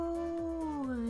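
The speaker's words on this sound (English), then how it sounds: "Watch out for guard dogs." Guard dogs in Minecraft Hypixel Skyblock howl in a long, steady, sustained tone that slowly falls in pitch, loud and continuous with no talk over it.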